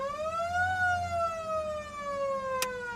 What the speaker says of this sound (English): this is your siren